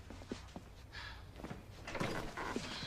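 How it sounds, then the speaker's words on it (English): A door being closed indoors in a drama scene: a few faint knocks and soft bumps with a light latching thud, quiet against low room background. "Close the door."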